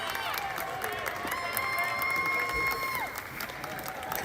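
A crowd cheers and claps steadily at a college baseball game between Central Penn College and Williamson Trade, a continuous roar of voices and applause with a few shouts rising above it.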